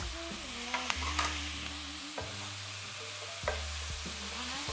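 Zucchini noodles and shrimp get a gentle stir in a hot pan, giving a soft, continuous sizzle with a few light scrapes and taps of the utensil, fairly quiet, close, and free of speech.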